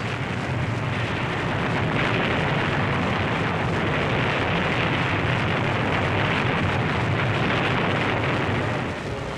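Bombs exploding during WWII air attacks on Sicily form a loud, continuous roaring rumble of blasts and debris that holds steady for several seconds without a break.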